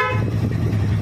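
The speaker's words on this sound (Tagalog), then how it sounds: "Ulit, busina." Horn on an upgraded Honda LS135 motorcycle fitted with an NS160 transmission, an NS150 cylinder block and a 28 mm carb, giving one steady, loud, close honk with no one talking.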